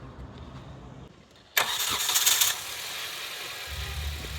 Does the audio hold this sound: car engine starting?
yes